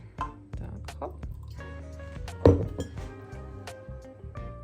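Water splashes and drips into a cup and is poured back out, close by, with small clinks of the cup amid light trickling and faint voices.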